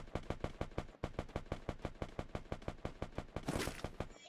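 Rapid automatic gunfire in the Free Fire battle royale game, a long burst of evenly spaced shots with a brief break near the start, ending in a denser noisy blast; fairly faint and mechanical, no talk.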